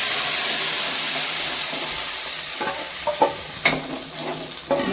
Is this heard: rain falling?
no